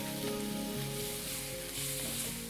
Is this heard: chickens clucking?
no